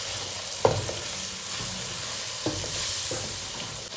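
Mixed masala with garlic and tomato being stirred in a hot pan for sarson ka saag, a steady sizzle broken by a few spatula scrapes and knocks, close up, no voices.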